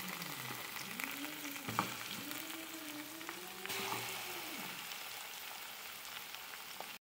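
Chicken wing pieces frying in oil until golden in a pan, a steady close sizzle with faint crackles, a soft clunk partway through, ending abruptly.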